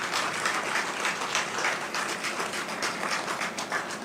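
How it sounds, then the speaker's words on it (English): Steady applause from a large crowd fills a funeral service hall, even and continuous throughout, with no talking over it. "I ask you please to give them a round of applause."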